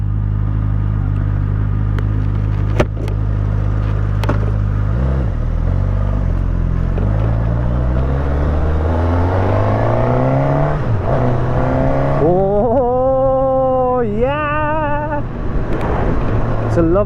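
A 2022 Suzuki Katana motorcycle engine under riding load, revving up through rising pitch sweeps with gear changes, loud and close with wind noise.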